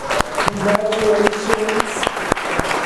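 Wedding guests applauding long-married couples during a ceremony, a dense, steady burst of clapping with a few sharper individual claps and faint voices underneath.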